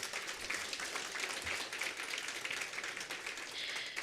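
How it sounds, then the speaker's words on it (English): Audience applause for the winners at a best-brands awards event, a soft, even wash of many hands clapping at a distance for a few seconds without speech. "let's give all of our winners a round of applause"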